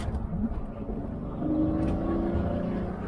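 Deep, throaty rumble of a Lamborghini Murcielago V12 engine running close by, swelling slightly louder partway through.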